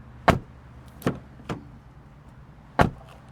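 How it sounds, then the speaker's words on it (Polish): Several car doors on a Geely Starray EM-i plug-in hybrid shut one after another, each a short solid thump with a few clear gaps between them. The thuds are close and light, with nothing else audible. "posłuchamy, czy drzwi zamykają się z należytą kulturą."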